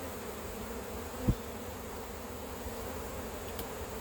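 A continuous hum of honey bees crawling over a honey frame fills the air, with a brief soft knock partway through and no talking.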